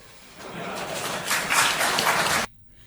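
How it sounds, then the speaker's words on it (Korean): An audience in China applauds a speech by Trump, a dense burst of clapping that swells for about two seconds and then cuts off abruptly. "중국 사람들도 굉장히 박수를 많이 치고 있죠"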